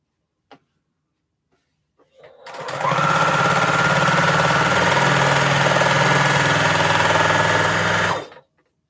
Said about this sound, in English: I could just sew this, and I want to make sure I get my seams right.